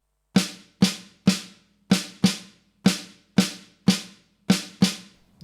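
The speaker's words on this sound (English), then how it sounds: "This is the sound of the 3-2 clave being played on the snare drum." A snare drum plays the 3-2 son clave pattern alone, ten crisp, close strikes with short decays, grouped three then two and repeated.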